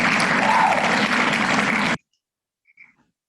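Applause coming through on a group video call, a dense, compressed burst of clapping for about two seconds that cuts off abruptly into near silence, followed by a faint brief sound.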